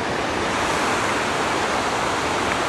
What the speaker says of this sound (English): I'll give you a flash of the waterfall